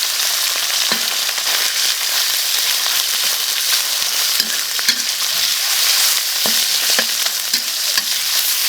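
Fatty pork stir-frying in a little oil in a home kitchen, a loud continuous sizzle with occasional scraping strokes of a spatula against the wok, no voices.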